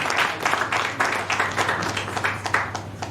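Audience applause at a renewable energy power dialogue forum, a steady wash of many hands clapping at moderate distance, continuous for about three seconds with no talk over it.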